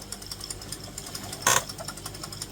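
A spinning wheel plies yarns into a double-ply slub yarn on the bobbin, producing a soft, steady rhythmic whirring and clicking, interrupted once by a brief sharp burst.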